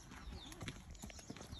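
Horse hooves clip-clopping in a quick, uneven rhythm on a horseback safari ride in Loisaba, Kenya, fairly faint and close.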